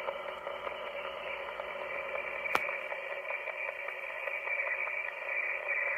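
Amateur radio receiver with the noise blanker switched on: a steady band of hiss and static with faint, buried signals beneath, one sharp click partway through, and no voices.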